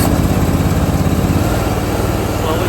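The small gas engine on a pressure washing skid rumbles steadily at close range, running loud and even at idle with no talking.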